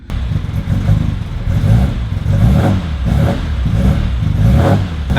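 A car with a loose ignition switch terminal and a developing misfire runs at close range, its engine rumbling and revving in repeated surges with a slightly uneven, clattery tone and no talk.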